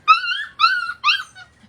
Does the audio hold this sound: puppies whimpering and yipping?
yes